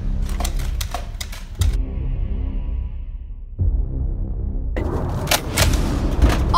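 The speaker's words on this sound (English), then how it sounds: "Gunshots." Rapid bursts of gunfire in a zombie apocalypse video game crack out in quick rattling volleys, pause for a stretch of low rumbling, then return with loud, dense shots near the end.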